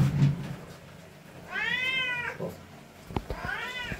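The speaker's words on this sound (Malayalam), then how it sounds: "നമ്മളെ ക്യാറ്റ് ഉണ്ട് ഇവിടെ" A Bengal cat meows twice in a home, two drawn-out, clear calls close by with a quiet gap between them.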